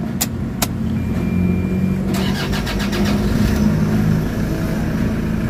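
A Toyota Fortuner engine cranks and turns over, settling into a steady idle with a low rumble, preceded by a couple of sharp clicks; no talking.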